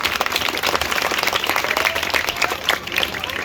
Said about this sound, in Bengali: সবাই জহির ভাইয়ের জন্য জোরে একটা করতালি দেন